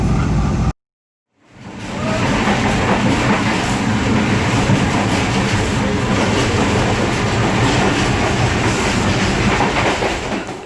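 A passenger train hauled by an AG 36009 locomotive rolls steadily along the rails with a continuous loud rumble and rhythmic clatter, close by, after a brief moment of silence at the start.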